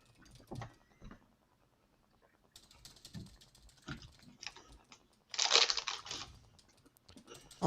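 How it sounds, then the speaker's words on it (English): Someone types on a computer keyboard during a software coding session. The bursts of clicking keys come up close and are broken by pauses, with one loud clattering flurry near the end and no speech. "Almost done typing this up."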